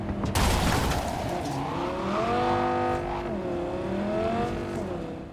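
Quadra Turbo R sports car driving in Cyberpunk 2077, its engine revving up and down through several gear changes as it accelerates hard, steady and close, with a brief burst of noise at the start.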